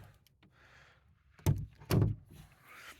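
A greenhouse door with a wooden frame, scrap-wood bracing and plastic sheeting swings shut with two close, solid thunks, the second heavier, amid faint background rustle.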